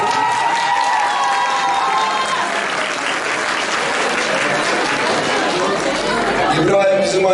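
Sustained crowd applause at an engagement ring ceremony in Ankara, with a murmur of chatter underneath, steady and loud throughout, swelling slightly near the end.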